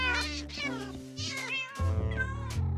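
Cat meowing in Minecraft on a survival multiplayer server, several drawn-out meows in quick succession over a steady game background, fairly loud and close.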